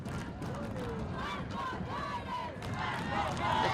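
Crowd noise swells at a high school boys soccer match, a continuous roar of cheering and shouts from the stands with scattered individual yells rising near the end.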